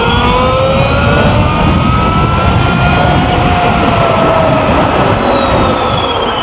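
An Ultraviolette F77 Mach 2 Recon electric motorcycle accelerates hard on a road, its thin motor whine rising steadily in pitch over a loud, constant roar of wind rushing past, with no talk.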